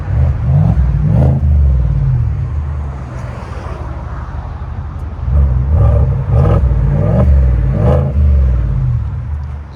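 A 2022 Cadillac Escalade's 6.2L V8 fitted with a Borla S-Type exhaust, revving outdoors in freezing cold, with a deep rumble rising in two strong throttle blips around a steadier idle, loud and close.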